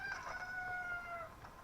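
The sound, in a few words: hen clucking in Zelda video game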